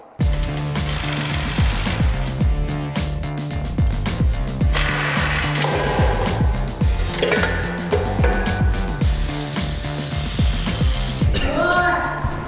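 Loud, harsh grinding and rattling metal work with irregular bursts and scraping, close up and continuous, a wire wheel and grinder biting and skipping over the metal of a Chevy square-body truck.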